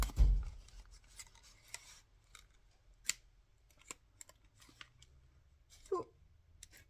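Scissors snip through a piece of card in a quiet room, with several soft, scattered cuts and one louder snip near the end.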